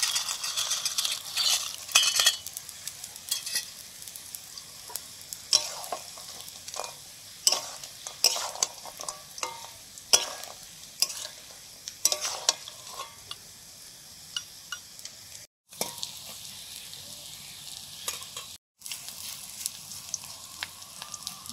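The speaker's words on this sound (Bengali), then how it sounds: "বাঁধাকপির বড়াগুলো পরপর ভেজে নিচ্ছি" Large cabbage fritters fry in a wok, giving a steady close sizzle with frequent scrapes and clinks of a utensil stirring and turning them. No one speaks.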